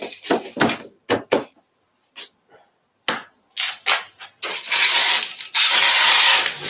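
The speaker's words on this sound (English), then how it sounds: "let's plug in the little baby compressor" A small air compressor is plugged in and starts up: after several bumps and handling knocks, a loud steady motor hum with hiss begins close by and keeps running.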